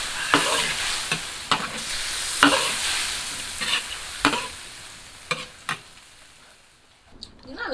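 Tofu skin and pork braise slowly in a wok over low heat, a soft steady bubbling sizzle punctuated by the sharp scrape and clack of a spatula every second or so, fading near the end.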